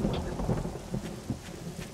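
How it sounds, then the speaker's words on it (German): Thunderstorm in 7 Days to Die: steady rain hiss with low rumbling thunder rolling underneath, dense and fairly loud throughout. "Oh, Gewitter!"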